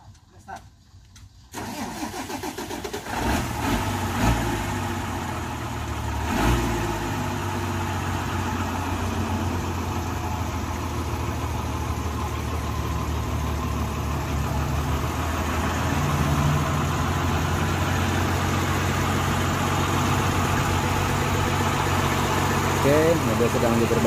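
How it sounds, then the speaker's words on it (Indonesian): A Fuso 220 PS 6x2 truck starts up and then runs with a steady, loud diesel rumble on a steep hill road. The engine revs slightly at times and stays continuous to the end. "Oke, truknya dicoba lagi ya."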